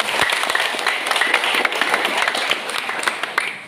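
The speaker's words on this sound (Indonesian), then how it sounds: "Mari kita memberikan aplaus yang lebih meriah." A crowd applauds at an Indonesian public campaign event on stunting with a parliamentary visit, giving dense, steady, loud clapping that continues for several seconds.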